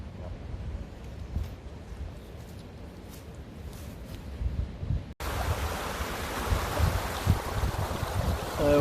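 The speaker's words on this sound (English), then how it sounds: "this little waterfall just kind of like" A small waterfall running off a hillside into a little tunnel, a steady broadband rush of falling water that gets louder and fuller partway through, with some wind buffeting on the microphone.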